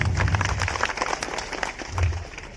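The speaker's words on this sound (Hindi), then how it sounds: "एक बार उनके लिए जोरदार ताली हो जाए।" Audience applause at a World Tribal Day and Bhagwan Birsa Munda community event in Burhanpur: a dense, steady clatter of many hands, swelling again briefly near the end, with faint voices mixed in.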